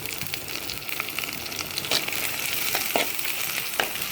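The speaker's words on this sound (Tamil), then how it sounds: "இஞ்சி பூண்டை நல்லா இந்த வெங்காயத்தோடு சேர்த்து பச்சை வடை போக வதக்குறோம் நம்ம." Ginger garlic paste sautéing with onions in hot oil, a steady close sizzle and crackle broken by scraping stirs of the spatula in the pan.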